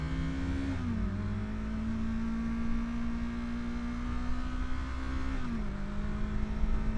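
A Yamaha motorcycle engine revs steadily and fairly close, its pitch stepping down briefly at each gear shift before climbing again, heard twice, with no talking.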